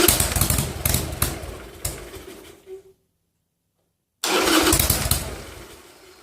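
A motorcycle engine with the choke on cranks and sputters roughly while cold, cuts out into a couple of seconds of silence, then fires again and runs unevenly.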